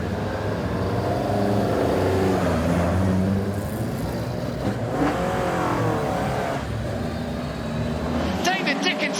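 Lotus Cortina race cars pull away at the start of a race, their engines revving and rising in pitch as they accelerate past, a loud continuous roar heard under a commentator's voice.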